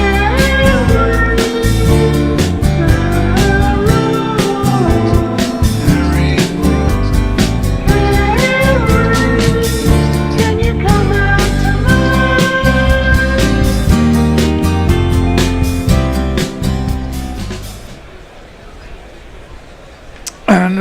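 Walk-out jingle for England batter Harry Brook at a Test match at Headingley, a loud, dense music track playing continuously for about eighteen seconds before cutting off into quiet crowd ambience.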